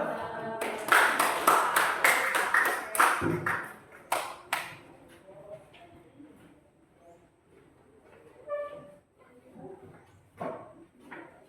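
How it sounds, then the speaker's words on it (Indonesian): Applause breaks out in a classroom after a group presentation, a burst of claps over the first few seconds, then scattered single claps and taps with brief voices. "Oke, tepuk tangan dulu."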